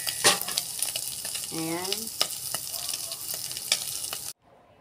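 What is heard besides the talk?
onions sautéing in a pan with smoked fish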